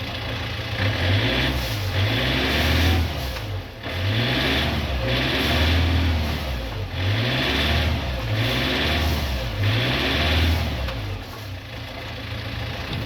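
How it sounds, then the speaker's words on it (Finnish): A large inboard engine on a sailboat revs in repeated throttle pulses, rising and falling roughly every second and a half. The mid-pitched droning is loud and close, with no talk over it. "Tosta kun mä laitan vähän kaasua tälleen näin"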